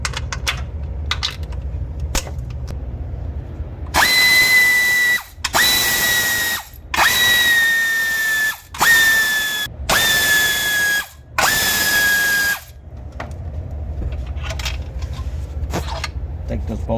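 A power tool runs in six short bursts as it loosens 12mm bolts on a Honda Odyssey, each burst a high whirring spin with brief pauses between, close and loud, with quiet clicks and handling before and after.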